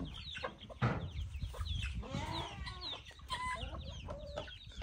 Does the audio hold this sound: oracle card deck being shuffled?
no